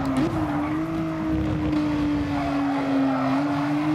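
A steady engine whine from a race car in GT Sport runs throughout, with a faint squeal as it slows under braking.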